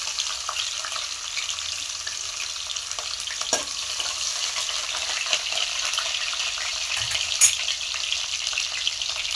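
Garlic and chili sizzling in hot oil in a pan while cooking shepu (dill) bhaji, a continuous bright crackling fry close up with occasional sharper pops and light stirring.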